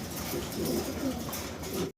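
Pigeons of a black exhibition breed coo softly and repeatedly in a low, throaty murmur under steady background noise, the sound cutting off abruptly at the end.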